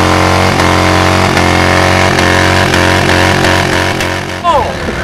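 A motorcycle engine holds a loud, steady, buzzing roar close by during a burnout, with slight pulsing, then falls away and shifts near the end.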